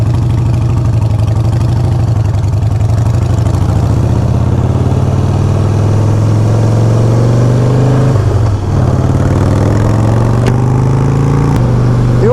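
A Harley softail motorcycle engine runs close and loud while riding, giving a steady low throbbing rumble with rising and falling revs and a brief dip near the end.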